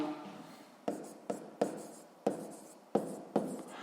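Someone writes a math formula by hand, a series of about seven short scratchy strokes at uneven intervals, close and quiet.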